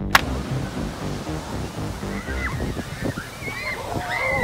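Cold ocean waves surging up a dangerous black-sand beach in Iceland, a continuous sloshing, hissing wash of water with excited voices and shouts over it.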